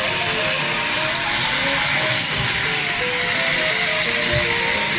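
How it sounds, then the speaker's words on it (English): A steady, loud hiss of water sprayed under pressure through a multi-hole vacuum table with a coolant separator, continuous for the whole stretch with a rough, airy texture and no voices. "Repeatedly sprinkle water several times."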